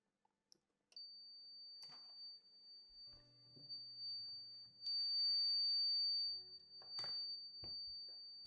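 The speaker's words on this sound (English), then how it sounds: "Now we will trigger an alarm in the system by violating one of the inputs." An alarm panel triggered by a violated input sounds a steady high electronic beep tone, joined by short bursts of hiss and clicks, fairly quiet and close with no talk.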